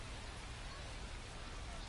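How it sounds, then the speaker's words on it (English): Heavy rain pours down steadily during a baseball game, a dense, even hiss with no breaks, fairly strong and heard alone without commentary. "the way this rain is coming down"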